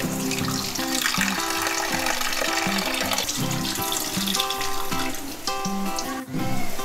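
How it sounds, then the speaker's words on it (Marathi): Dried bombil, or Bombay duck, fish is rinsed in clean water, a steady rush of running water splashing loudly throughout under background music. "पुन्हा हे आपण स्वच्छ 2 ते 3 पाण्यातून धुवून घेऊया"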